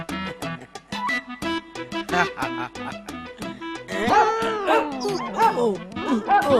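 A dog barks repeatedly in quick bursts, then breaks into yelps and howling whines, close and loud, with voices mixed in.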